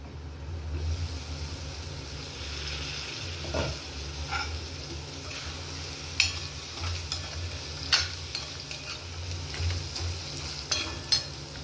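Mutton curry with chilli powder frying in a pan, giving a steady close sizzle with a low hum beneath and occasional stirring scrapes and clicks.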